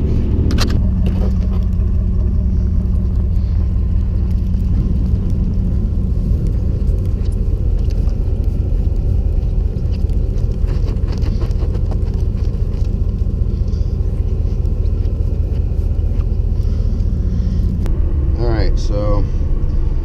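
A four-wheel-drive pickup truck drives through fresh, untouched snow, its engine giving a loud, steady low rumble throughout with bumps and creaks from the cab and brief faint sounds near the end.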